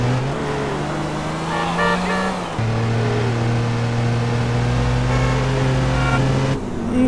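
Continuous car traffic driving through a modded Los Santos map in a GTA game, with steady engine drones that rise and shift and an occasional horn toot, loud and close throughout, with no talking.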